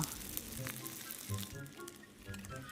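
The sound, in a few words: rice paper and Spam frying in oil in a pan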